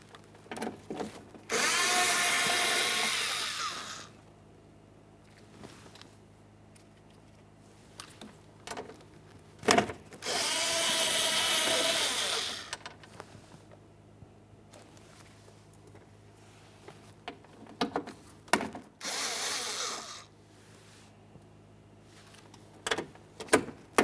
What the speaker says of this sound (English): Let's start removing the center mounting bolts.